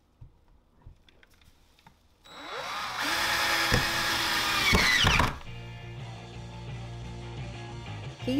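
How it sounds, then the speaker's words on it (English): After a quiet start, a hammer drill whines loudly for a few seconds with hammering vibration, drilling through a bottom plate into a concrete slab, then winds down to a lower rumble. "He used a hammer drill to pre-drill holes through the bottom plate and into our concrete slab."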